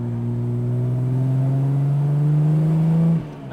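A Jaguar C-Type evocation's XK 3.4-litre six-cylinder engine from an XK 150, fed by triple downdraft Webers, revs up in one rising sweep, loud and close, then drops off sharply at the end.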